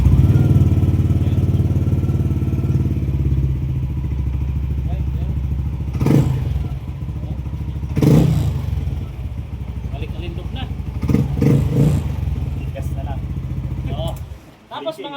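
A Yamaha NMAX 155 V2 scooter engine running after a TPS wiring repair, a close, steady idle with a few revs and clatter, while someone talks over it before it cuts off.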